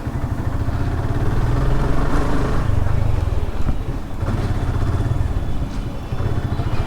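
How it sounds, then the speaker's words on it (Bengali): A motorcycle being ridden after full servicing gives a loud, steady engine drone with slight rises and dips in revs, heard close up with a little talk mixed in. "তারপরেও বাইকটা একটু ব্রেকিংটা কেমন পাওয়া যায় এখন।"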